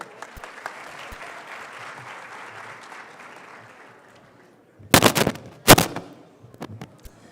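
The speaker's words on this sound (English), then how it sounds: "A round of applause for her." An audience at a plenary session of a service-focused conference applauds in a moderate, steady patter that fades after a few seconds, followed by a couple of loud, close knocks or thumps.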